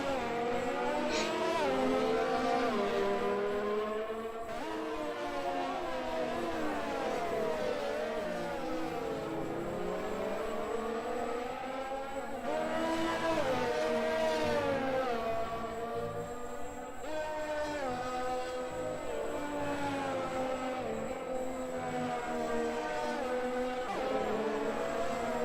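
A Mercedes and a Ferrari race car battle wheel to wheel in a Hungarian GP racing game, their engines whining loud and close and sweeping up and down through gear changes and revs for the whole stretch.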